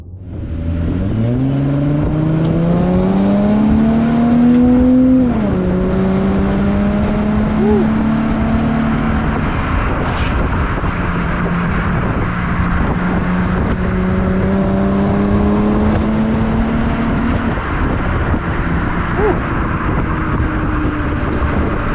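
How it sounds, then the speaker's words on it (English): A Jaguar XF drives a twisty road, its engine loud and close as it revs up through the gears in rising sweeps, eases off, then climbs again with steady tire and road noise underneath. "All right, let's give this a little drive."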